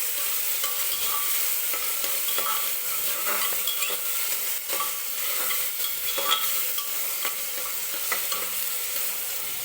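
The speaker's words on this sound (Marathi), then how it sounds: "टोमॅटो सुद्धा छान असं सॉफ्ट होईपर्यंत तेलामध्ये भाजून घ्यायचा." Onions and tomatoes frying in oil for dal khichdi, stirred with a utensil, giving a dense close sizzle broken by frequent light scraping and tapping strokes throughout, with no voices.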